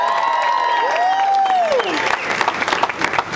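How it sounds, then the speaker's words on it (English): Audience at a COP17 climate conference event in Durban gives a round of applause, sustained clapping and some cheering, with a prominent whistle-like tone gliding across the first half. "Can we have another round of applause, please?"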